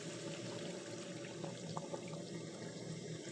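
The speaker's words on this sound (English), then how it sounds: "add water." Water pouring steadily into a cooking pot over rice and chicken, a continuous rushing, splashing flow that stays even and close throughout, with no talk.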